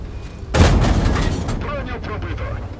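Tank cannon of a Sherman VC Firefly fires in a tank video game: one loud, sudden boom followed by a rumbling, decaying tail, with a voice speaking before and after the shot.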